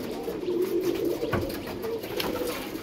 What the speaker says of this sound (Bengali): কত পায়রা দেখুন।